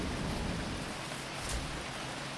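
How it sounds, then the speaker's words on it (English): Steady rain falling in a space-survival video game, a dense even hiss with faint patter, moderately loud and continuous with no voices. "The rain is coming from very small clouds, as if the planet is sucking the water out of them."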